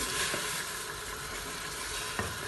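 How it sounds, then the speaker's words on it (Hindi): Chopped tomatoes hit meat in a cooker while a lamb dish is made, giving a steady, close sizzle of frying with faint stirring clicks and no voices. "सबसे पहले इसके अंदर 3 जो मैंने टमाटर काटे हैं वो डाल देता हूँ"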